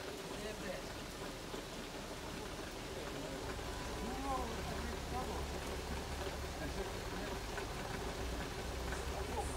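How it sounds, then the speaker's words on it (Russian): Rain falls outdoors in Estonia as a faint, steady patter, while people talk over it. "Там дождь идет"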